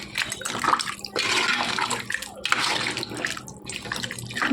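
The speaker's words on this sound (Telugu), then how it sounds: "ఈ విధంగా వాటర్ వేసుకోవాలి." Water poured generously into a pot of chicken leg curry, a loud, sustained splashing pour with brief pauses and surges, close by.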